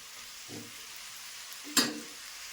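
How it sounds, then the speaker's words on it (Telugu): Tomato and amaranth greens frying in oil with tamarind in a pan, a soft steady sizzle with one sharp stirring scrape near the end, quiet and close, no voices. "టమాటా కూడా మనకు బాగా వేగిపోవాలండి నూనెలోనే"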